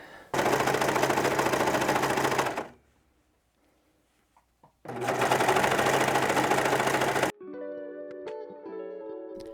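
A sewing machine stitches hoodie body pieces together in two loud, steady bursts of rapid mechanical clatter separated by a quiet pause, followed by gentle tonal music.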